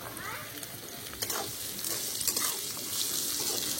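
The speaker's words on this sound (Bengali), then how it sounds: "এবার কিশমিশ দিয়ে দিচ্ছি।" Cashews and raisins fry in a pan for village-style red fried rice, a soft continuous sizzle with faint scraping and stirring, fairly quiet and close, and no voice clearly heard.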